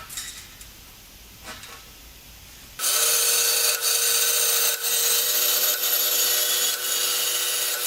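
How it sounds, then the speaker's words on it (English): A power tool cuts a piece of metal tube for a Volvo 940 oil catch can in a workshop, starting suddenly after a quiet stretch and then running loud and harsh without a break. "So I'm now going to cut a bit of tube"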